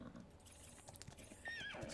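A horse in the Ark video game gives a high whinny alongside hoof clip-clops, close and fairly loud over a busy game background, the neigh rising and falling near the end.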